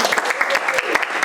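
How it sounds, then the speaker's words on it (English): Audience at a classroom technology talk for English teachers applauding, a brief burst of dense, close clapping with sharp individual claps standing out. "let's get ourselves a round of applause for showing up"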